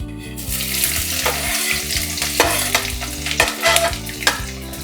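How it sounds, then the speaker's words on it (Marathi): Onion dropped into hot oil with bay leaf and cinnamon for green chicken, a loud, close, crackling sizzle with repeated scraping strokes of stirring. "तेल छान तापलेलं आहे आता आपल्याला टाकायचं आहे कांदा"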